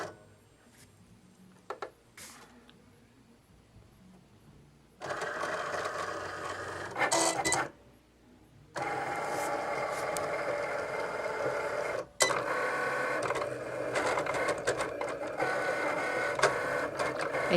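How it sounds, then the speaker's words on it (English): Vinyl cutter slicing a car decal from vinyl on a cutting mat, heard up close as bursts of whirring, buzzing motor movement broken by brief pauses, with a quiet start before the cutting runs steadily. "I have the vinyl on the mat, and I'm just going to send it through the cutter"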